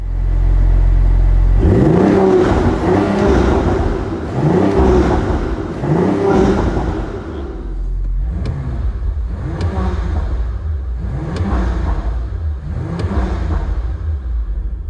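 A 640 hp Audi RS5 Avant revs hard in ESC Sport mode, a loud engine roar and exhaust growl that rises and falls, then gives way to a rhythmic series of shorter blips, each ending with a crackle.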